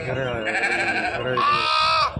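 Sheep and lambs at the Gudur sheep market let out loud, drawn-out bleats close by, one long call following another with little pause.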